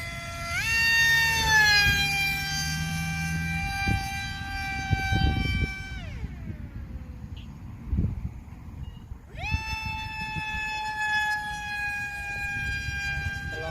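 A high REDCON electric motor whine on an RC F-117 model airplane spins up, holds, winds down to near silence, then spins up again and holds, with faint background noise.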